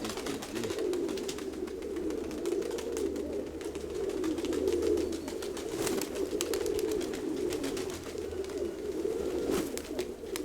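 Pigeons flutter and coo outdoors on a calm, windless day, wingbeats and soft calls continuing steadily at moderate distance with no talking.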